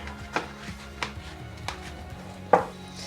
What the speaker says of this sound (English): I'm going to separate these yolks, these eggs, 4 eggs